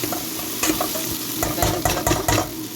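Crushed garlic sautés in a pan for a Jaffna-style fish curry, a close, continuous sizzle broken by several scraping stirs of a spoon against the pan.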